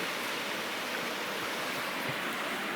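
Cooper Brook flows along the Appalachian Trail in the Maine woods with a steady, broad rushing of water heard close by and unbroken, without talk.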